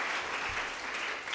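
Brief, faint applause for school debate teams at the close of a junior debate contest, a soft patter of clapping heard from some distance for just over a second.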